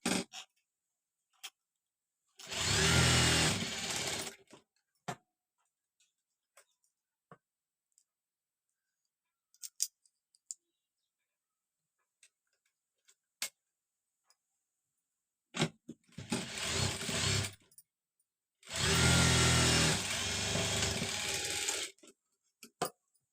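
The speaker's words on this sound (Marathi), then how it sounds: "ह्याला आपण एक सरळ भागाला टीप मारून घेणार आहे." A sewing machine stitches a side seam in three separate bursts of steady whirring and rapid needle clatter, with quiet clicks and handling noises in the pauses between runs.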